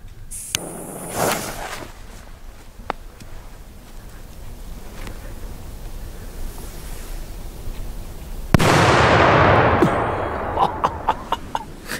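A Jumbo Color Whistling Thunder firecracker, a Polish banger, bursts outdoors with one loud close blast and a rushing, decaying roar, followed by a few small crackling pops. Faint thin tones and scattered clicks come before it over steady background noise.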